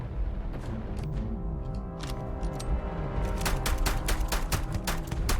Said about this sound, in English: Just a lot of shots there.